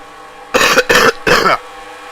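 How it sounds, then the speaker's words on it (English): Three hoarse coughs in quick succession, close and loud, with brief gaps between them and quiet afterward. "Just a minute, I got a cough."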